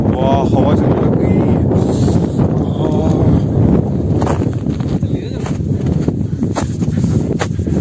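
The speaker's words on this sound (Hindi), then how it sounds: "हवा चल रही है" On a snowy mountain top in the Chopta valley, strong wind roars steadily into the microphone as a loud, continuous buffeting rumble, with people talking faintly beneath it.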